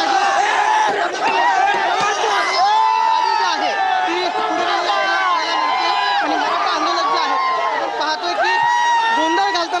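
A large crowd of Maratha protesters mobs around Supriya Sule's car, loud continuous shouting, cheering and chanting voices packed close together with no pause throughout.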